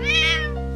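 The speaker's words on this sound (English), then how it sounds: "a cat." A single cat meows, a long, drawn-out, close and loud meow on its own with no talking.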